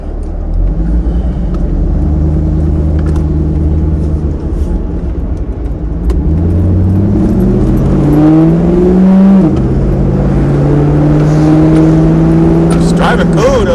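The engine of a 2002 Chevy Camaro Z28 with a freshly changed serpentine and AC belt rumbles loudly from inside the moving car, rising and falling in pitch as it accelerates and shifts, with someone talking over it.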